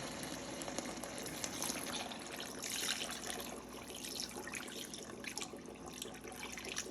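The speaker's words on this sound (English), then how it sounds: "right now, we are going to add some water." Water runs steadily into a pan of chicken paprikash, a continuous close splashing and gurgling stream with no talking.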